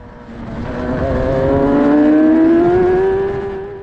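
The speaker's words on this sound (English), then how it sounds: "can hear the revs there as the wheels lose a slight bit of traction" A Formula racing car engine at Donington Park revs loudly and climbs in pitch as it accelerates with slight wheelspin, swelling to a peak and then easing slightly, with no talking.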